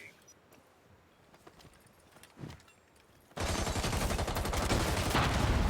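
Wall-penetrating gunfire in Rainbow Six Siege during a competitive esports match, a quiet stretch with a faint crack, then a loud, dense burst of rapid shots filling the last couple of seconds.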